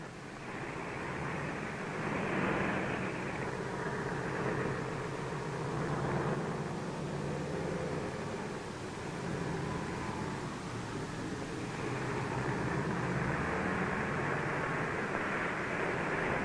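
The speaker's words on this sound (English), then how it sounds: "the Cub planes of Air Liaison are utilized to transport wounded from the forward zones" Droning engine of a Piper Cub light propeller plane used for military air evacuation on Okinawa, a steady buzzing hum that swells slightly and fades, continuous with no talking.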